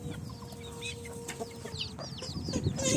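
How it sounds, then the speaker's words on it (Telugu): Farm chickens and small chicks feed nearby, giving soft repeated clucks and thin chirps over a low background rumble that rises near the end. "చూడండి మా కోళ్ళు ఎలా తింటున్నాయో."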